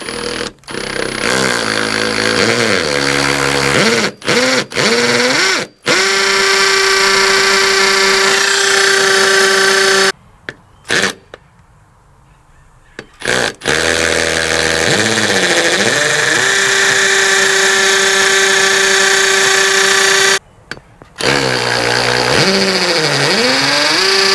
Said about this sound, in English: when we're drilling into the masonry, we want to have our drill on hammer